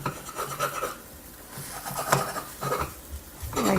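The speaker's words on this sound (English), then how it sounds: "we'll cut this into small pieces so that it gets fit into our bread slice" A utensil scrapes and taps against a pan while cutting a cooked omelette into small pieces, with a few short irregular scraping strokes, close and moderately loud, and no talking.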